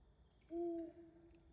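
An owl hoots once in the video game Death's Door, a single low, drawn-out call that rises out of a quiet ambient background at moderate volume and then fades back into near silence.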